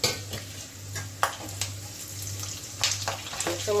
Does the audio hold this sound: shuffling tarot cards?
no